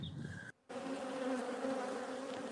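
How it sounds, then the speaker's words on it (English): Dense, steady humming of many bees swarming close by, a continuous droning buzz with one very brief dropout. "So that is the sound of the bees flying around the hive."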